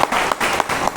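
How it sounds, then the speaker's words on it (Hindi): A crowd at a Hindi poetry gathering claps for a poet, a short, loud burst of applause with a few distinct, sharper claps standing out above the steady patter. "एक बार इनके लिए तालियां बजनी चाहिए।"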